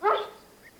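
A farm dog gives a single loud, close bark at the start, trailing off into quiet with a faint yip near the end.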